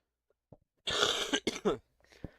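A person coughs a few times in quick, harsh bursts close by, with a brief throaty sound before.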